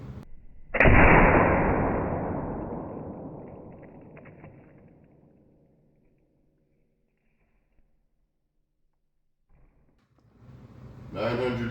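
An air rifle fires a Winchester hollow point pellet into Jell-O at over 900 fps: one loud, sharp crack that rings and fades over several seconds, then silence before some close rustling at the end.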